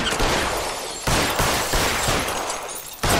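Gunfire in the LA Noire video game, loud dense bursts of shots with heavy reverberant booms, two sharp new volleys cutting in over a continuous barrage.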